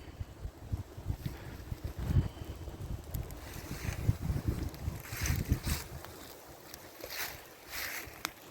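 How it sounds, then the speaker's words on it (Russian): Gusty wind buffets the microphone outdoors on a cold early-November day of pike fishing beside a small campfire, with steady low rumbling surges and no one talking. "Ветерок сегодня не слабый"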